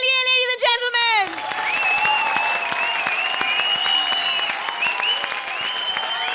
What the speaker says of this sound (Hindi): जोरदार तालियां सोनू निगम के लिए, ladies and gentlemen